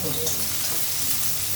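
Eggplant frying in a pan for a mustard greens (sorshe shak) dish, a dense continuous sizzle with steady crackle, close and fairly loud, with no talk over it.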